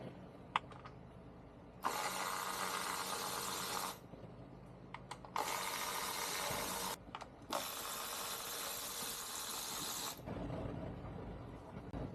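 A ratchet spins out the 10mm coil pack bolts on a Dodge Challenger 3.6 V6 in three sustained, close whirring bursts, separated by short pauses with small clicks and handling noises.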